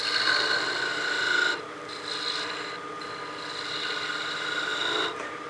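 A skew chisel's long point takes a planing cut on wood spinning on a lathe, giving a steady rasping hiss with a faint high whine that eases off briefly, then resumes softer.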